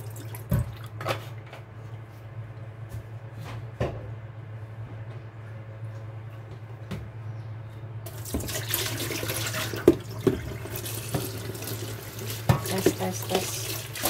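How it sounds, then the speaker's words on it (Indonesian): Hot water mixed with Baygon-style degreaser poured into a clogged bathroom sink, a steady running and splashing wash that swells louder after the first few seconds, with faint dripping and clatter alongside. "tak sirami banyu panas karo Baiklin"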